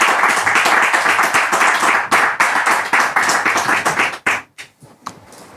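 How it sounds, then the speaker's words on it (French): An audience at a live French-language show claps loudly, individual hand claps standing out in a fast uneven patter, then it breaks apart into a few separate claps near the end. "merci de recevoir sous vos applaudissements le frère Elvis"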